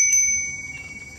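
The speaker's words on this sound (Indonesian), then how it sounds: "Ini suara lonceng dari tadi ada mulu loh." A bright bell rings once near the start at Taman Festival Bali, its high metallic tone lingering and slowly fading over a low hum.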